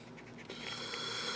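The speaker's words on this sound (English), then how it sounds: "I keep breathing in and out and breathing in and out and breathing in and out and making a whole bunch of noise." A person breathes in and out audibly close to the microphone while drawing manga-style gloved hands, a soft airy hiss that strengthens halfway through, with faint pencil scratching beneath.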